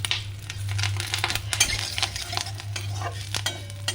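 Leaves fry in a pan for a home-cooked lunch while a utensil stirs and scrapes them, giving close, irregular scraping and rustling over a soft sizzle and a steady low hum.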